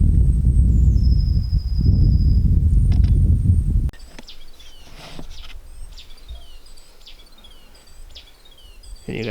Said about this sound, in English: I've never heard a bird make that noise.